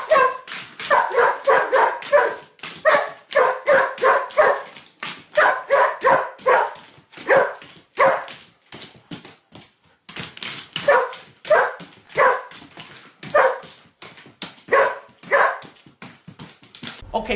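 Dog in the video game Evolve barking in repeated bursts of two to four quick barks separated by short pauses, loud and close, continuing steadily throughout.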